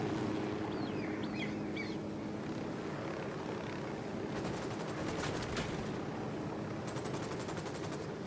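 Rapid bursts of automatic gunfire in the video game Ghost Recon rattle out in two short volleys over a constant engine-like drone, with a helicopter nearby.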